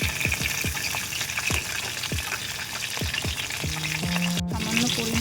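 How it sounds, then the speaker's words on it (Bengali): Pointed gourd (potol) pieces fry in hot oil, a steady close sizzle and crackle running throughout, with a few soft stirring clatters and a brief tonal beep near the end. "আমি কিন্তু তেলটা ভালো করে ভেজে নেবো জিনিসটা, পটলটা।"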